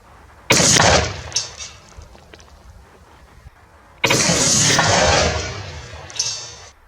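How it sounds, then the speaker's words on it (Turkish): Two air-rifle shots from a modified Derya CRT 401 strike a bottle, each a loud broadband blast with a sharp onset and a ringing decay, the first near the start and the second a few seconds later. "Şişe kapağını açtık, şişeyi de vurduk."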